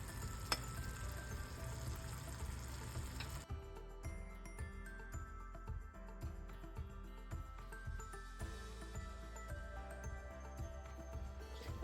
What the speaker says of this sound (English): let this boil down to the point to where I can then test it in my water